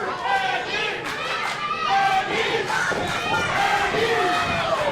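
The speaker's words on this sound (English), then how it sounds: "Fans getting behind her, Thatcher." Wrestling crowd at an independent show roaring and chanting in support of a female wrestler, a sustained mass of voices with rising shouts.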